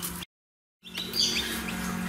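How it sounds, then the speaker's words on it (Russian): Newly hatched chicks in an "Ideal Hen" incubator give high, thin chirps close by over a steady mechanical hum, with a brief silent dropout near the start. "16-17 птенцов вылупилось за ночь"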